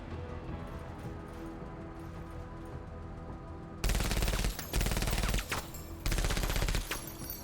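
Sci-fi gunfire in the tactics game Menace comes in three loud, rapid bursts of automatic shots after a quieter stretch of rumbling battle ambience.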